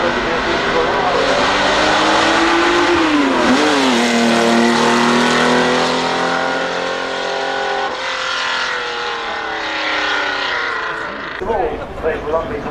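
A classic Ferrari at the Goodwood Festival of Speed roars loudly past close by, its engine note rising and then falling away with a Doppler sweep, while someone talks over it.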